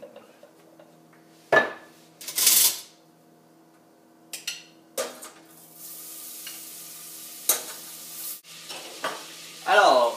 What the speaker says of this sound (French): Vous prenez votre beurre et vous le faites fondre.